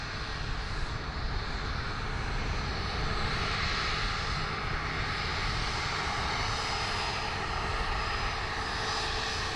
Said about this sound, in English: We do have a Bombardier Challenger 604 taxiing out here on taxiway Charlie.